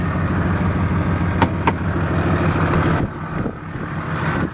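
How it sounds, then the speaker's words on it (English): A 2008 Dodge Ram 2500 Cummins diesel with a six-speed manual and a twin disc clutch idles close by with a steady, loud rattle, a few sharp clicks, and a brief dip partway through. "this truck has a twin disc clutch. That's perfectly normal. That's exactly how they sound."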